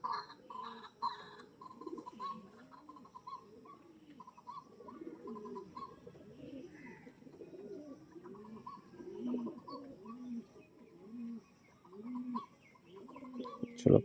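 Racing pigeons in a loft, including a female, keep up soft, steady cooing with low rhythmic rolls, a few birds overlapping at moderate distance, with a brief sharp knock at the end.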